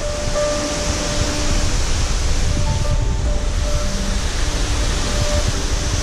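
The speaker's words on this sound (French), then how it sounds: "Bienvenue à la cascade Didier." Didier waterfall in Martinique pours with a constant, broad rushing roar, close and steady throughout, with faint birdsong whistles threaded above the water noise.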